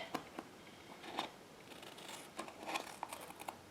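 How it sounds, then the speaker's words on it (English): Scissors snip away excess cardstock around a handmade holiday card, a series of quiet, crisp cuts at irregular intervals close by. "you're just cutting off the excess cardstock"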